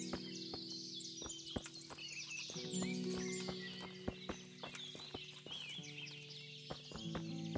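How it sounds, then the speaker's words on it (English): In the Kingdom Come: Deliverance video game, a horse clip-clops steadily on hard ground while neighing and snorting, with chickens and ambient game sounds in the background and no talk. "Horse."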